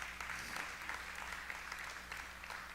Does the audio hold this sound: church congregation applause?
yes